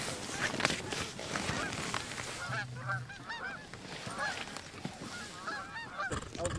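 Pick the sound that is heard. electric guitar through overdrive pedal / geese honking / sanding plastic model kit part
geese honking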